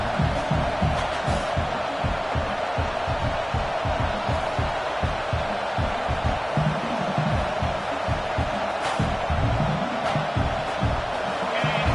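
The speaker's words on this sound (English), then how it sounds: "This crowd, full throats." Stadium crowd in a Madden football video game, a continuous loud roar of cheering fans filling the scene without letup.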